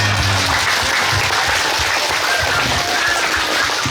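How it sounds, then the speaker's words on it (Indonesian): Audience applause at a community iftar gathering in Sorong: a dense, steady wash of many hands clapping, loud and close, filling the full four seconds with no talk over it. "Tepuk tangan kurang."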